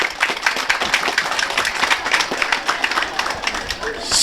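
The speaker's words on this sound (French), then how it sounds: "je voudrais qu'on les applaudisse tout spécialement pour ça" A crowd at a health post inauguration in Keur Sambou, Senegal claps steadily and fairly close, a dense patter of many hands that continues evenly for several seconds.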